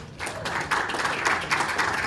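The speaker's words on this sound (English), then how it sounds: "So one round of applause to Matthew and his team." Conference attendees at a Toronto tech startup event give steady, dense applause for a presenting team, a continuous wash of many hands clapping at moderate loudness.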